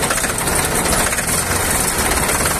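Ford 3600 tractor with its diesel engine idling, a loud, steady close-up rumble with even knocking, heard alone.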